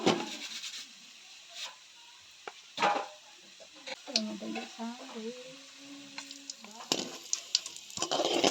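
Vada frying in hot oil for vada pav, a soft continuous sizzle with bubbling and scattered clinks of a utensil, close up and fairly quiet, with no clear talk.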